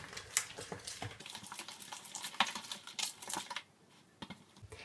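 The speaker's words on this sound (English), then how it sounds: "Now we will mix everything well." Raw chicken pieces worked by hand with red chilli powder and spices for a tandoori chicken roast, giving a close, busy run of soft wet squelches and light clicks that thins out near the end, with no voices.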